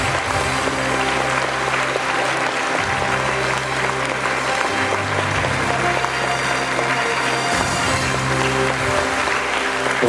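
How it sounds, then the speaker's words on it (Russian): Audience at a folk song concert in a palace of culture applauding warmly: dense, sustained clapping that fills the hall at full strength throughout, with no voices over it. "Ваши дружные аплодисменты."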